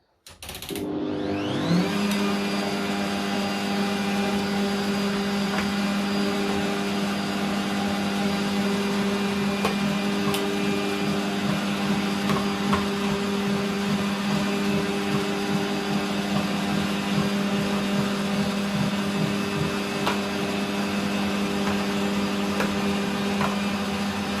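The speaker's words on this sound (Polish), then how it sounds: "zmielę dwukrotnie w maszynce do mielenia mięsa" An electric meat grinder mincing drained poppy seeds starts up and then runs in a steady, loud motor whine and hum that holds without a break, close by and with no talking.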